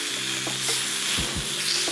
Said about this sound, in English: You just want a nice bit of colour from that sizzle.